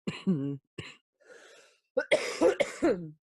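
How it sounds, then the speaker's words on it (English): Several harsh coughs come in quick bursts, a couple of single hacks followed by a rougher cluster, close and loud. "I can't laugh without coughing."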